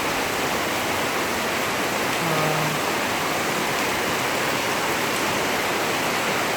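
Heavy monsoon rain falls at night in Phnom Penh, heard from under an eave. A dense, loud, unbroken roar of downpour fills the whole stretch, with no voices.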